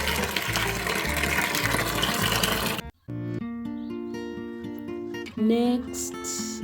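Tap water gushes into a container to fill it for cleaning a washing machine, a steady loud splashing stream that breaks off briefly, then resumes with rising fill tones.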